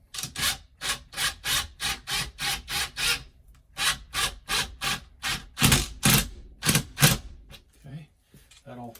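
Screws driven into a wall stud for a laundry room shelf: a steady run of about twenty rhythmic, gritty bursts from a driver, close and loud, with a brief pause midway, then slowing toward the end.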